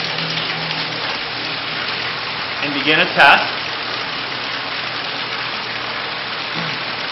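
Water rushes through a Bradley Navigator High-Low 45 thermostatic mixing valve during a flow test, a steady broadband hiss like heavy rain, with a brief spoken phrase near the start.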